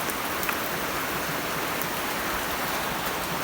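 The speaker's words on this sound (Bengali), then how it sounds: "তো দেখেন বৃষ্টি আপনার এখনো ভালো বৃষ্টি হচ্ছে।" Steady rain falls continuously in a rural farmyard, a dense even hiss with scattered droplet patter, close and unbroken with no voices.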